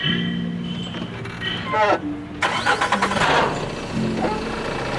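A car engine cranks and catches just after fresh engine oil has been poured in and the level checked, turning over briefly before settling into a running idle, close by, with a voice talking over much of it.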